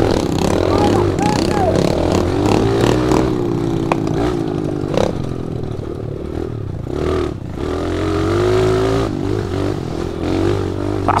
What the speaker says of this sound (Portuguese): E a minha mini moto, né, cara?